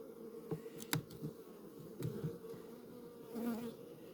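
Honeybees buzz around an opened hive frame during hive inspection before winter, a soft, close drone with a few louder passes and faint handling clicks.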